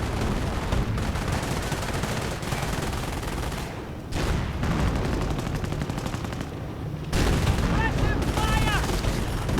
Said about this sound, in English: Lots of heavy fire.